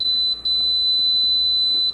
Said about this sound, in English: sometimes it's a long beep, sometimes it's a little beep.